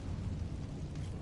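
A deep, rumbling blast from explosion spells in the video game Hogwarts Legacy fills the short moment, loud and boomy, with a sharp pop near the end.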